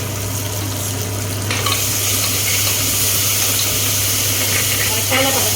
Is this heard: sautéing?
yes